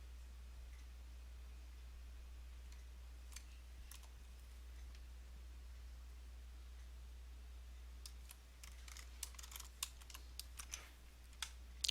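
Quiet clicks of typing on a computer keyboard, a few scattered keystrokes at first and then a quicker burst of taps near the end, faint over a steady low electrical hum.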